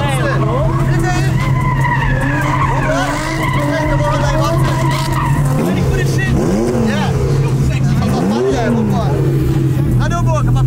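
A Lamborghini drifting in circles, its engine revving and tires squealing in rising and falling sweeps over a steady motor drone, loud and close, with voices talking and shouting over it.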